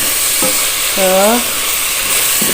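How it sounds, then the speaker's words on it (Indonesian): Chicken feet and necks sautéing in hot oil, a continuous close sizzle and hiss while a voice briefly speaks over it. "Ini kita tumis-tumis dulu ya sampai harum."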